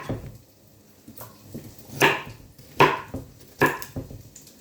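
Knife chopping squash on a board, a few sharp irregular cuts, three of them clearly louder, close by with no talking.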